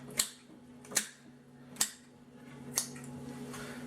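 Four sharp cutting snaps, each a crisp isolated crack, as a knife severs the tail from a raw whole turkey being prepped for smoking, spaced roughly a second apart over a steady low hum.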